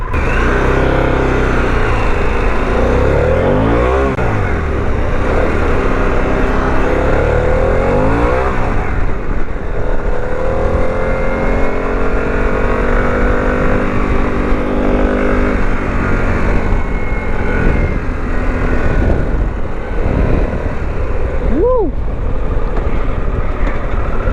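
Harley-Davidson Pan America 1250 S, a 2021 adventure motorcycle with a V-twin engine, revving steadily throughout a test ride, with loud continuous engine drone and wind noise and a brief rising whine near the end.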